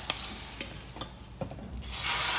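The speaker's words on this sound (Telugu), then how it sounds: "మనం రెడీ చేసుకున్న తాలింపుని ఇందులో వేసేసేయండి." Hot tempering (tadka) poured into a cooked dish, giving a soft, steady sizzle with a few brief clinks and stirring sounds, fairly quiet and without talk.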